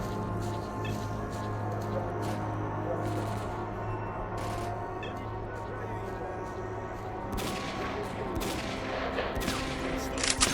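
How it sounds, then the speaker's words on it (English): Gunfire in the video game S.T.A.L.K.E.R. Call of Pripyat: repeated bursts of shots at irregular intervals over a constant droning background, moderately loud, with heavier firing toward the end. "we're taking heavy fire from an unidentified enemy"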